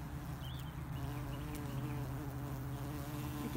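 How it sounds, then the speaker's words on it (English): A bee buzzes among blooming flowers outdoors, a continuous droning hum close by with no speech over it. "Look at Busy Bee."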